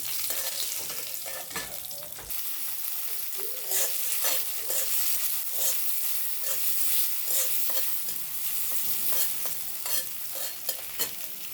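Whole chillies, bay leaves, cardamom, cinnamon and raw garlic fry in oil in a wok, a steady close sizzle broken by repeated scraping stirs of a spatula.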